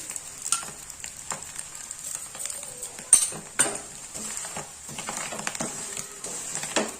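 An egg dosa frying in oil on a hot pan, giving a soft continuous sizzle and crackle with scattered pops and scraping touches, heard alone at moderate level.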